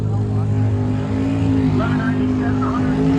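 At a Sick Summer drag racing event, a Ford Mustang's engine drones loud and steady, with a faint rising whine, under an announcer's talk.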